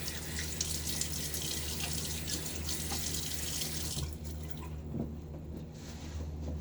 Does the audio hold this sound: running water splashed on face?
yes